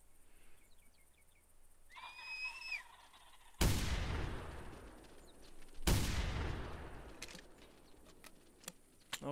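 Two loud, sharp shotgun blasts in the hunting video game theHunter, a couple of seconds apart, each ringing out with a decaying echo; a short whistle-like call comes before them.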